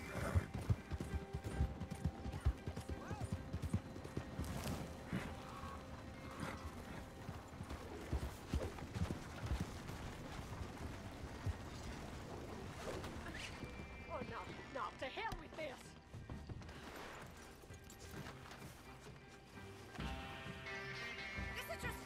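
Horse hooves clip-clopping in the Red Dead Online video game, a steady rhythmic trot running throughout amid busy game sounds and chaotic action, with someone talking over it.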